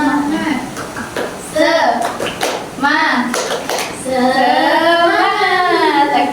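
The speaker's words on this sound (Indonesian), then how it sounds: "kita tepuk semangat dulu" A school class does a rhythmic spirit clap during a classroom lesson, with bursts of clapping mixed with children's and a teacher's voices chanting and talking close by.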